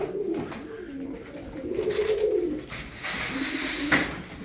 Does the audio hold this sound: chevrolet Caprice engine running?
no